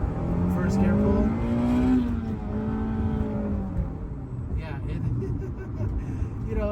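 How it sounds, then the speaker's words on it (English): Acura Integra GS-R with a manual gearbox revving hard through a first gear pull, the engine note climbing loudly and steadily then easing off, heard from inside the car with someone talking over it. "So I'm gonna go ahead and give it another rev here. First gear pull."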